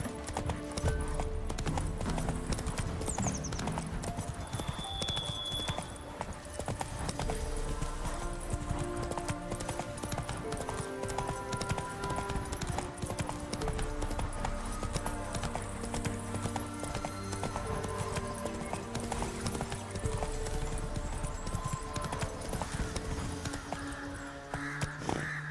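Geralt's horse Roach in the video game The Witcher 3: Wild Hunt trots with rhythmic, continuous hoofbeats, joined by crow caws and a neigh amid layered game ambience and music.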